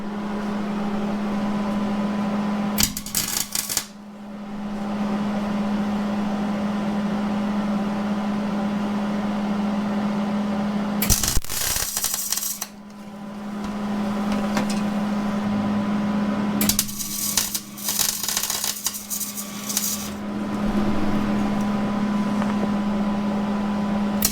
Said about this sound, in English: Now I'll be able to run a weld along this edge out here.